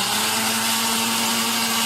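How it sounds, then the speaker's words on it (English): A blender runs continuously and loudly, churning frozen bananas into dairy-free chocolate ice cream, with a steady high-pitched motor whine and grinding roar throughout and no pauses. "It's gonna take some work on the blender,"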